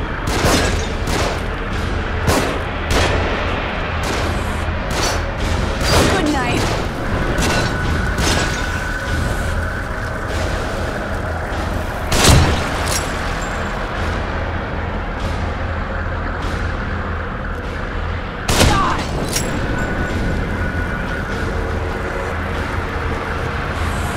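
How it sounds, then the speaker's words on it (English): Enemies fire down from above in The Evil Within, with repeated sharp gunshots cracking at irregular intervals over a steady rumbling mechanical background and two louder bangs standing out. "They're shooting from above."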